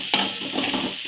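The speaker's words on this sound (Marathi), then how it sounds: "हलवून चांगलं असं एकजीव करायचा मस्तपैकी." Dried mackerel chutney being stirred in a pan with a spoon, a soft scraping, sizzling texture through the short stretch with a sharper clatter at the start and end.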